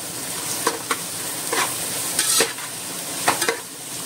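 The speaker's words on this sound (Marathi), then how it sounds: "ताका स्लो उज्याचेर मातशें 5 मिनट भाजून घेता" Carrots and French beans stir-fry over a slow flame for Goan-style chowchow, a steady soft sizzle broken by a few sharp spatula scrapes and clinks against the pan, close and alone.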